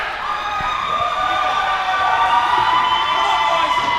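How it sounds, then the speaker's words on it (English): A crowd at a broomball national championship final on ice cheers and shouts, a sustained, fairly loud wash of voices with some high-pitched yells rising slightly toward the end. "now we're getting some cheers from the New South Wales part of the crowd"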